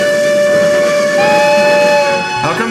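Several steam locomotive whistles blow together, overlapping shrill steady tones held loud and close for nearly the whole stretch before one cuts off near the end.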